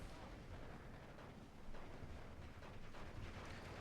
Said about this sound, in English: And finally we drop some bombs.